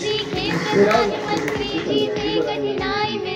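A group of children claps for a student at a school scholarship ceremony, a continuous close patter of applause with children's voices chattering over it.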